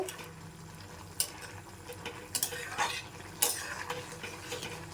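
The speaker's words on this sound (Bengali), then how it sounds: "আর একবার একটু নাড়িয়ে চাড়িয়ে নেব" Spoon stirring a simmering water spinach stalk and potato curry in a pan, with a few sharp scraping clinks over a faint bubbling background, no talk.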